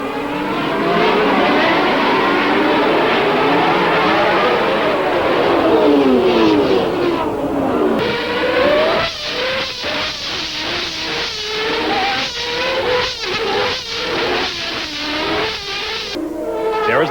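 Formula 1 cars roar away from the start of a race together, loud dense engine wail with sweeping pitch climbs and rapid gear-shift stutters, filling the whole stretch.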